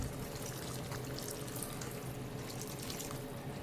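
Water is poured steadily into a pan of simmering dhaba-style chole masala gravy, giving a continuous, fairly quiet splashing and running sound with no talk over it.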